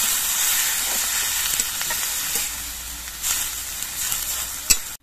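Bottle gourd peels hiss and sizzle steadily in a pan after a little broth is poured in, with a few faint clinks of a utensil near the end.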